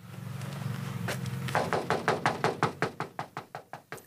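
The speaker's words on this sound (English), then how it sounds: "we went knocking on the landlord's door" Someone raps on a landlord's door at a trailer park in Pikeville, a run of about a dozen firm, evenly spaced knocks that speed up slightly after a few slower taps, close and clear.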